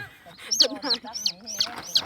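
Chickens cluck in a quick series of about five sharp, high calls close by, with a faint voice underneath.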